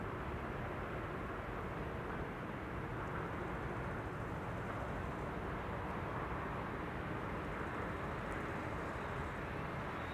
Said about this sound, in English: And this is also one of the Transavia A321neos.